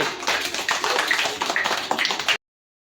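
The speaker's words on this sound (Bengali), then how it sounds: "এই তো সুন্দর, জোরে হাততালি" Children clapping together in a classroom, a quick burst of loud, dense claps lasting about two seconds before stopping abruptly.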